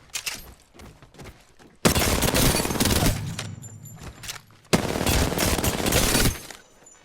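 Automatic gunfire in the Apex Legends firing range comes in two long, loud, continuous bursts separated by a short pause, with no voices.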